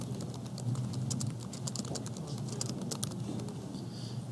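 Rapid keystrokes on a computer keyboard type a chart title in a spreadsheet, a continuous close patter of clicks over a low steady room hum.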